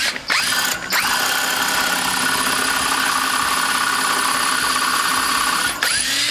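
Power drill grinding against a stuck punch lodged in a part of a 1958 Wheelie Horse RJ58 tractor during restoration, a loud continuous whining bore with the motor straining and binding, briefly stopping near the start and again near the end.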